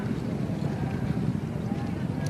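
Racehorses gallop during a horse race, a busy, continuous drumming of hooves mixed with wind noise, heard under a commentator's steady talk.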